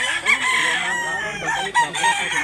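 A Duke Hulsey Grey x Mclean gamefowl rooster crows loudly and close by in a short, wavering call, with clucking and faint background voices around it.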